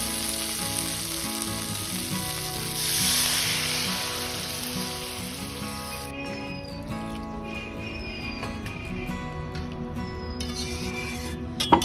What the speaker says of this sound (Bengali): আদার যে কাঁচা গন্ধ আছে সেটা চলে গেছে, এবার আমি জল দিয়ে দেব।